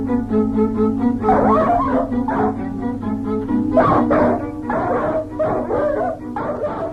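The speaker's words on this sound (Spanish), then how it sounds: "Nadie sabía de dónde había venido aquel perro" A dog barks and yips repeatedly in close, loud bursts, some whining and howl-like, with no voices over it.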